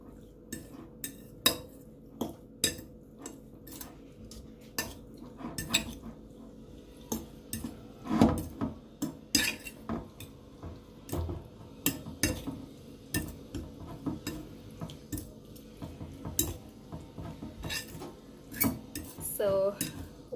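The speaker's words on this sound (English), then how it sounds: "So once this is fully stirred in properly, I'm just going to set it aside" A spoon stirs oregano into chicken Alfredo sauce in a pan, making close, repeated clinks and scrapes against the metal in an irregular rhythm, with no talking.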